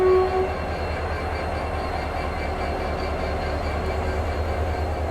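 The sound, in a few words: train with WDP 4D diesel locomotive shunting coaches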